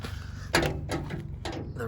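Door latch on a 1967-72 Chevrolet C10 pickup truck, locking and unlocking with a few short metallic clicks and clunks close by, spaced under a low background hum.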